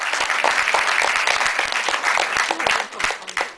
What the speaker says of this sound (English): I'll take that applause from this cool crowd